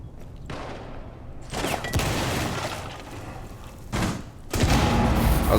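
A grenade blast in Rainbow Six Siege lands as a muffled boom, with a second heavy burst following a few seconds later amid rumbling game noise and no talk.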